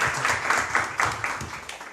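Applause in a Spanish-language church service, with the congregation clapping in a steady rhythmic beat, pulsing evenly at a moderate level throughout.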